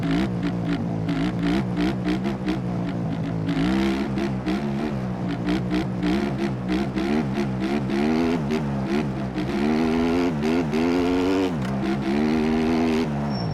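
A motocross bike engine in the video game MX Bikes revs hard and loud through wheelies, its pitch climbing and dropping in repeated bursts of throttle with no pause.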